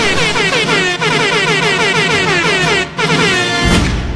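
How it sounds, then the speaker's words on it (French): A loud, blaring klaxon-like horn sounds continuously with a wavering, buzzy tone, briefly dips, then cuts into a harsher burst at the end. "Je fais du bruit pour attirer l'attention un peu comme un klaxon."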